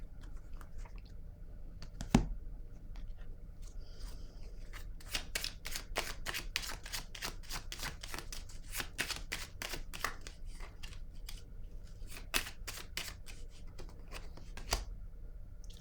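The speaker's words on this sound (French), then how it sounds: "Attendez, je vais piger une autre carte." Cards being handled and drawn from a deck during a tarot-style reading, a run of quick crisp flicks and shuffling snaps, close and moderately loud over a quiet room, with one sharper tap near the start.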